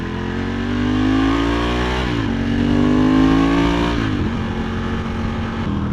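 A Ducati motorcycle engine revs loud and close, its pitch climbing and dropping through several cycles, holding a steady, throaty drone between the swells with no voices.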